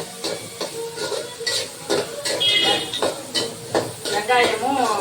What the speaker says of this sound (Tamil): வெங்காயமும் கொடை மிளகாவும் அதில் போட்டு நல்லா வதக்கணும்